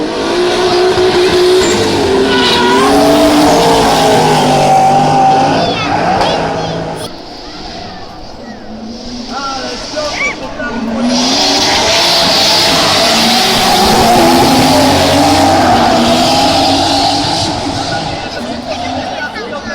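Drift cars practising at the first Polish Mountain Drifting Championship in Kłodzko, engines roaring and revving loudly with tire noise, a brief lull midway, while people talk excitedly over the din.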